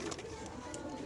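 Racing pigeons kept in cages at a market coo softly in a short burst, close by, amid a murmur of background voices.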